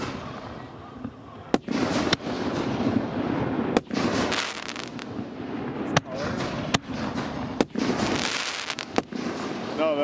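Fireworks fired straight up from a raft at a lakeside shoot crack in several sharp reports spread over a few seconds, amid steady crowd noise and nearby people chatting.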